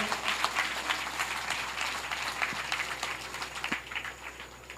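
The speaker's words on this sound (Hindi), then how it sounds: "विकास सिंह जी का जोर से तालियों से स्वागत करें।" Faint, steady applause from an audience at a Hindu devotional discourse, the Shrimad Devi Bhagwat Katha, welcoming a guest. The clapping is distant and low in level, with a few sharper claps standing out.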